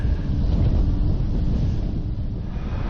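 Strong Storm Bertie gusts on Salisbury Plain roar as a dense, steady rumble that buffets the microphone for the whole stretch, with no voices.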